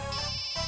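A phone ringtone chimes briefly, a sustained electronic melodic tone that shifts pitch once within a fraction of a second, heard alone and fairly loud.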